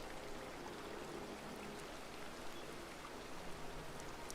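Steady rain falling in the Disney Dreamlight Valley video game, a constant soft hiss of drops without pause and no voices.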